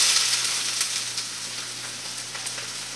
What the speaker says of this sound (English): we're going to start sauteing the onions